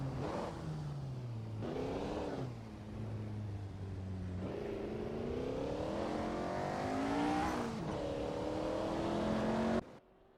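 Race cars in a 1950s-classics AI racing simulator game drone steadily, engine pitch rising and falling through gear changes, fairly loud and continuous before cutting off abruptly near the end.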